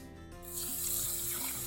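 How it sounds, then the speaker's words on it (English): Water pours steadily into a pot of quinoa, a continuous splashing rush that starts after a brief quieter moment and stays loud and close. "we're gonna add 2 cups of water"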